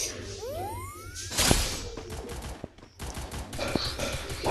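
Gunfire in the mobile battle game Free Fire: a dense, crackling burst of rapid shots, with a whooshing sweep and scattered impacts over continuous game noise.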